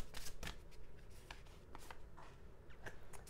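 Tarot cards shuffled for a card reading, a soft riffling and flicking of card stock repeating in irregular bursts, close and fairly quiet with no talking.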